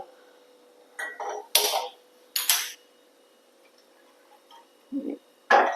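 A gas kitchen stove igniter clicks as the burner is lit for quail egg curry: a few sharp, close clicks come in short clusters, separated by quiet gaps.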